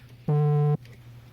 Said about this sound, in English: I have a phone call here